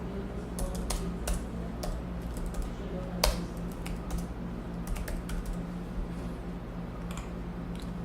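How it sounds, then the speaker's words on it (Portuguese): Typing on a computer keyboard while naming spreadsheet tabs, a close run of irregular light key clicks over a steady low room hum. "Eu posso aqui digitar nomes."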